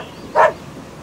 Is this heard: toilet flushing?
no